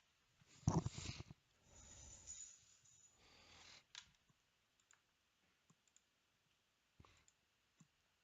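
A computer mouse clicks several times, sharp isolated clicks spaced a second or more apart, after a brief burst of louder shuffling at the start, in an otherwise quiet room.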